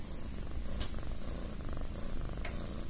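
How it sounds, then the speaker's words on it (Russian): A domestic cat purrs softly and steadily indoors, a low continuous rumbling with faint rhythmic pulses and no voices over it. "Это кто у нас мурчит?"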